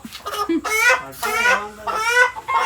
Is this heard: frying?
no